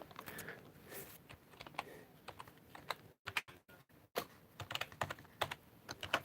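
Rapid clatter of keys on a computer keyboard as a message is typed, in irregular bursts with a short pause midway, close and fairly quiet with no talk.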